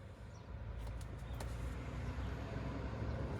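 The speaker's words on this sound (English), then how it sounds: "Oh, truck." A truck passes along a nearby road, producing a broad, steady rumble that swells slightly and holds at a low level, with no talking over it.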